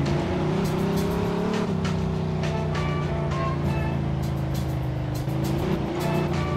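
A car engine in the Mafia 2 video game drones steadily at a constant pitch, with slight rises and dips in revs and continuous road noise, loud and close throughout.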